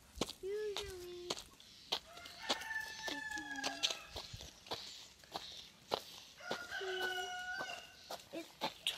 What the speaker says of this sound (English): I have 4 or 5 bantams.